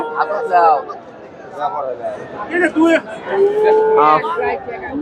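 A crossbred Friesian cow moos several times amid a busy outdoor crowd at a cattle market, with people talking nearby throughout.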